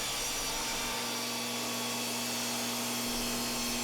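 A DeWalt DW745S 15-amp compact 10-inch job site table saw with its DeWalt blade spinning at 3,850 RPM runs close and loud as wood is fed through, a continuous steady whine with no talking.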